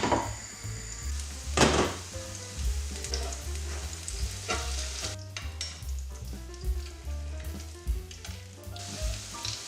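Steady sizzling of yeast pancakes with apples frying in a covered pan over medium heat, with occasional soft clinks and scrapes and a low background hum.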